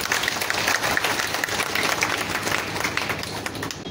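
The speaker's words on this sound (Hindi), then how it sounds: "एक बार जोरदार तालियां।" A live audience at a National Safety Day gathering applauds loudly and steadily for the safety head, dense clapping filling the whole stretch without a break.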